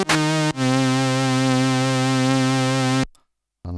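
A single IK Multimedia synthesizer patch from a song recreation plays sustained harmonic tones with no reverb or Dimension D chorus, a short note followed by a long held one that cuts off dry, then silence and a brief new note.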